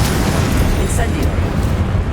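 Hogwarts Legacy Incendio fire spell going off as a short fiery burst with a bright flare, set against a thick, rumbling game background.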